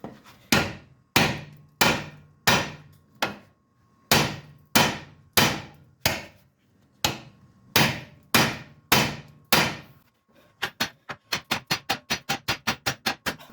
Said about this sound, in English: I just hit this with the hammer.